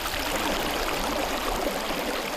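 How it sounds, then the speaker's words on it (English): The Pine River in the rolling hills of Richland County flows with a steady broadband rush and babble, continuous and fairly close, with no voices. "situated along the sparkling Pine River"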